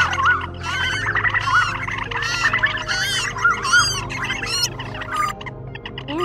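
Recorded Asian koel calls mixed with another songbird's calls, played as a trapping lure: dense, repeated squawks and bright chirps overlapping continuously at close range, with no voices.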